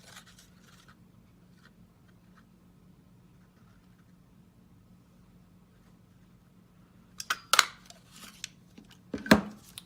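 A 1.5 inch paper circle punch snaps through cardstock in a quiet crafting room: a couple of sharp, close clicks with faint handling noise near the end, after a long stretch of near silence.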